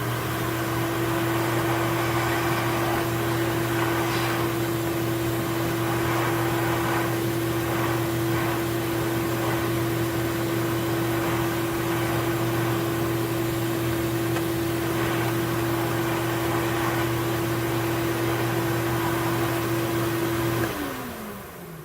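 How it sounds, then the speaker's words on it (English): A shop vacuum hooked up to a sandblasting cabinet for dust control runs with a steady loud whine and hum, unbroken for about twenty seconds before switching off abruptly near the end. "I'm going to turn the vacuum on just to see what happens here"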